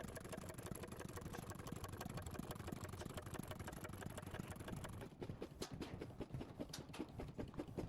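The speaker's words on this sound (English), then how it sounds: "This single-cylinder engine, one of only 5 ever built, was demonstrated running with 2 large flywheels spinning" A rare 1925 Otto single-cylinder engine, one of only five built and started with compressed air, runs with two large flywheels spinning, giving a steady, rapid mechanical chugging that loosens into distinct thumps near the end.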